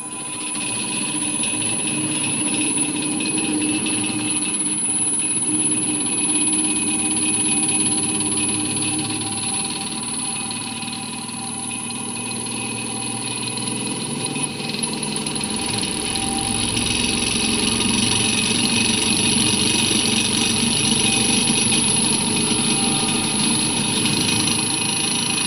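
An electric vehicle motor on a test bench hums steadily with a high-pitched whine as it is brought up toward its 2000 rpm rated speed. The loud, continuous drone swells slightly partway through.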